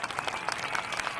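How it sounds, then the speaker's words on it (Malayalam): Faint clapping from a studio audience after a caricature performance on a comedy show, a brief patter of claps that stays quiet and distant. "നല്ലൊരു കൈയടി കൊടുക്കാം അല്ലേ സുനിലിന്?"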